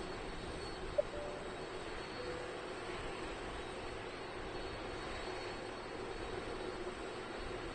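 A passenger jet departs Manchester Airport with a steady, broad roar of engine noise, continuous and even in loudness throughout, heard at a distance with no talk over it.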